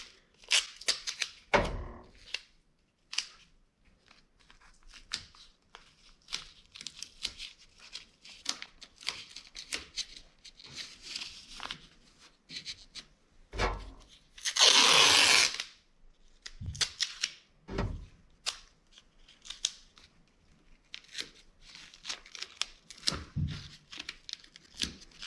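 Masking tape is run off the roll and torn while a 1959 Dodge Coronet is masked for painting. There are sharp close rips and snaps at irregular intervals, and one longer pull of tape sounds louder, with quiet handling noises in between.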